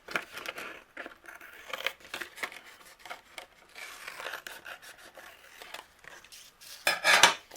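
Scissors trim overhanging patterned card paper at a crafting desk, giving irregular close snips, paper rustles and light scrapes in uneven bursts, with a louder crinkling flurry near the end and no talking.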